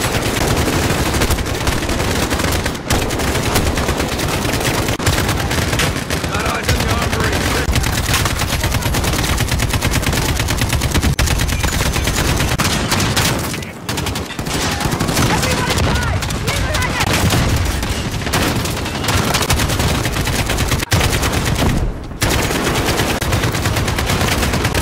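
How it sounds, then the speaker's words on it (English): Constant dense machine-gun and rifle fire in a Call of Duty: Modern Warfare campaign battle, loud and continuous with barely any pause, with booms mixed in and faint voices buried beneath. "Guns blazing."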